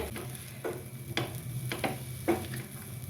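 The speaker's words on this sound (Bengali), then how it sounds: "গুঁড়ো দুধ দিয়ে সঙ্গে সঙ্গে মিশিয়ে নিতে হবে" Powdered milk stirred into sweet mithi pulao in a pan, a spoon scraping through the grains in a few soft, spaced strokes over a low steady sizzle.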